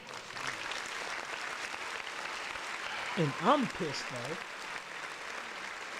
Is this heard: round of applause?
yes